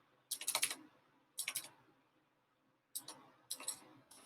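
Typing on a computer keyboard, with short bursts of crisp clicking keystrokes separated by pauses, close and fairly quiet.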